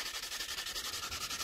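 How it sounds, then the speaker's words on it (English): Soft, rhythmic scratchy rubbing of a 120-grit drywall sanding sponge buffing a carbon fiber holster, quick repeated back-and-forth strokes at a steady pace, close and fairly quiet. "these are drywall sanding sponges"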